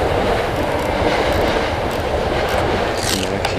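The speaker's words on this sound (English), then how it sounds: "It's a train." A train rumbles steadily past at close range, a continuous loud roar with rhythmic clatter of wheels on rails and occasional high metallic squeaks.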